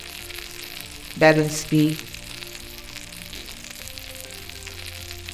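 Pre-cooked fish and potato kebabs coated in egg and white flour frying in oil, a steady close sizzle with a brief spoken phrase partway through.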